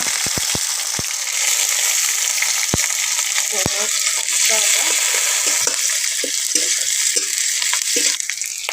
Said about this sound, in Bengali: এখন দিয়ে দিব জিরে, দিয়ে দিব পেঁয়াজ, তারপরে দিয়ে দিব কাঁচা লঙ্কা